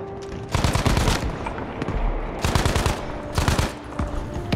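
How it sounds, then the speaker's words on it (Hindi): Machine gun fire in Battlefield 5, World War II setting: three loud sustained bursts of rapid automatic shots, close and punchy, separated by brief lulls with distant scattered fire. "अबे क्या फायरिंग कर रहे हैं ये लोग?"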